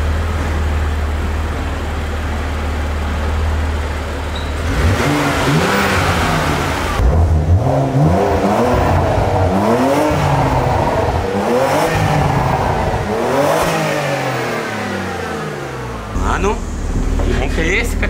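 Porsche Macan Bi-Turbo engine revving in repeated rising and falling surges with crackling exhaust pops, heard from inside the car over a steady low rumble, with people talking throughout.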